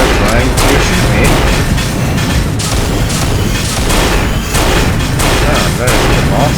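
Gunfire in the multiplayer video game Unreal, a loud dense barrage of booming shots and impacts running continuously, with a voice talking over it.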